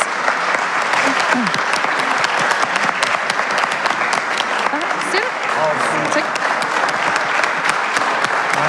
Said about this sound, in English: But let's give these guys a huge round of applause.